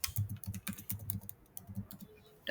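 Fast, close keyboard clicks come in uneven bursts as Python code is typed on a computer keyboard. The taps are crisp but fairly quiet, with brief pauses between runs and no talking.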